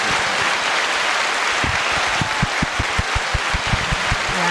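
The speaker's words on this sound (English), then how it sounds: "There's claps on the other side of this." A podcast crowd claps for two guests, broad applause building into a run of sharp, distinct hand claps with a loose rhythm toward the end.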